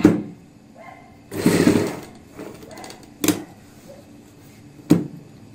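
A sewing machine stitches a seam on box-pleat palazzo pants near a zip in short separate bursts: one longer whirring run, then brief quick clicks and a final short run, with quiet gaps between.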